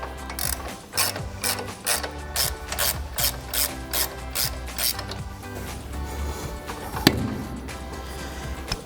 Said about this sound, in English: I'm gonna take my 1/2-inch drive now with my 18mm on it and just ratchet this out the rest of the way.